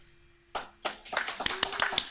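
A short burst of clapping from a small comic convention panel audience starts after a quiet moment, growing into scattered, uneven hand claps with a few sharp taps.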